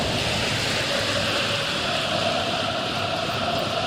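A football video game crowd roars in a dense, steady wash of noise, loud and unbroken, with no other sounds rising above it.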